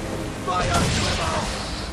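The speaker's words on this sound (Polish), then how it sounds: "wypalić z armaty" A ship's cannon firing in Assassin's Creed 3, a moderately loud boom swelling midway over a noisy background, with voices talking around it.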